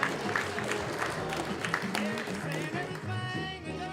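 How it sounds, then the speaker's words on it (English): Applause from a conference audience at a Go programming talk, mixed with crowd noise and voices, continuous and moderately loud. "Round of applause for Chris."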